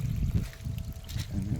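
Flood water pours over a tiny waterfall and trickles down a channel outdoors, a steady close babble of running water with no talk.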